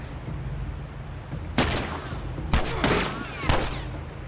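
Gunfire erupts in The Last of Us video game: three sharp, loud bursts crack out at even intervals over a low, steady background rumble.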